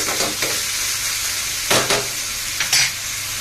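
Onion and tomato frying in a pan over high flame, a loud continuous sizzle with several bursts of spatula stirring and scraping, close and without talk.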